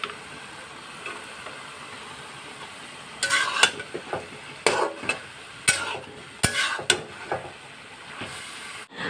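Chopped onion and garlic go into a frying pan with tempering spices. A faint sizzle sits under a series of sharp scraping and clinking stirring strokes from a utensil against the pan.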